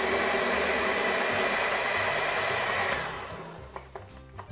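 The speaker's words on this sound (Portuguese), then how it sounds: "juntamos a noz triturada e o fermento e batemos de novo até ficar esta mistura toda bem batida" An electric mixer beats walnut coffee cake batter with crushed walnuts and leavening, a loud steady whirring drone that stops about three seconds in, followed by a few light clinks.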